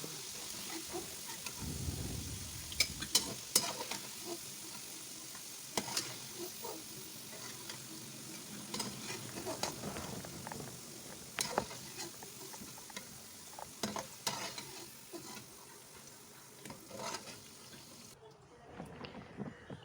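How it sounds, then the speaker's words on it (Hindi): Finely chopped onion fries in oil left over from frying taro, a low, uneven sizzle with scattered clinks and scrapes of utensils throughout, fairly close. "जिस ऑयल में हमने अरवी को फ्राई किया था उसी में हम इसको डाल के इसको हमने ब्राउन कलर तक इसको फ्राई करना है।"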